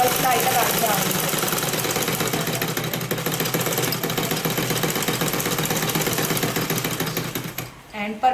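A sewing machine runs in a steady rapid mechanical whir while double-stitching the folded side slit hem of a kurti, continuous and fairly loud throughout before stopping near the end, with a voice talking over it.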